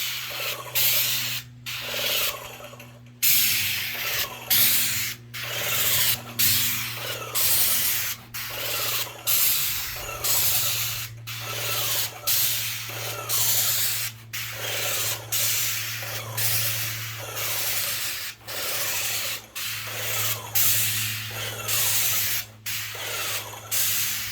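An airless sprayer sprays stain onto a deck outdoors with a loud, steady hiss. It runs in long passes broken by brief, regular cutoffs, close and with no talk.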